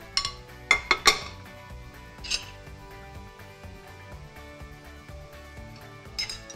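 Ham, cheese and spinach omelet slid from a pan onto a plate, a few light metallic clinks and taps near the start, then quiet kitchen hum with another soft clink at the end.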